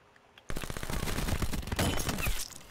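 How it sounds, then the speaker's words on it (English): Automatic weapon in Call of Duty Black Ops 4 opening up after a quiet beat, a fast, loud, continuous burst of gunfire lasting about two seconds before tapering off. "He's using a automatic gun!"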